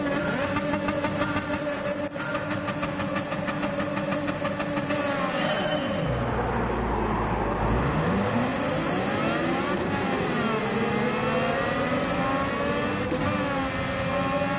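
A Ferrari engine in Gran Turismo 7 revs hard in first gear with a manual clutch, loud and close, rising and falling through several steep climbs and shifts, with a brief low lull in the middle.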